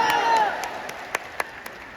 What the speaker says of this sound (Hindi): आप बजाइए ताली